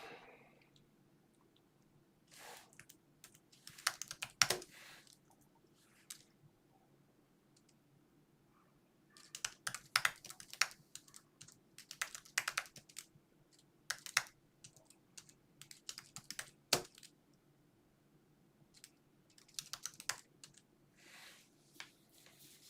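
Computer keyboard typing during a live stream, quiet clusters of rapid key clicks in several bursts separated by pauses, close and alone with no talking.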